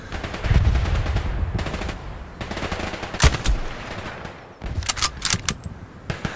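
Gunfire in the war game Hell Let Loose, with sharp rifle and machine-gun bursts snapping over a rumbling battlefield bed, some shots close and loud, others scattered and farther off, continuing for several seconds.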